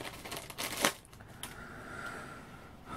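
Thin plastic bag crinkling as a clear canopy part from a 1/48 Zvezda Messerschmitt Bf 109 F-4 model kit is worked out of it: soft close rustles and crackles in short bursts, fairly quiet, with no talk.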